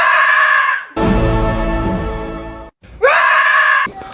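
A person imitates a dinosaur with loud, strained screeching roars, one long cry followed by a shorter one after a brief gap, with no other sounds around.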